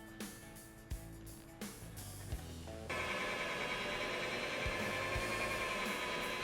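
A car buffing machine with a foam pad polishes paint with machine glaze to remove swirl marks, shifting into a steady, dense whirring hum after some thumps and humming.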